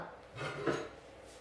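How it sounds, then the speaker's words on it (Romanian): A ladle swirls through rested crepe batter in a bowl, producing a brief, soft, close-up scrape and a light clink of metal against the side. "luăm un polonic și îl amestecăm"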